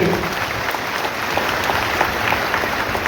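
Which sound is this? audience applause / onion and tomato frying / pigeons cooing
audience applause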